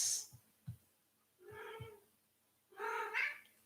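A pet cat gives two short meows, faint and close, the second longer and rising, with soft taps and quiet stretches in between.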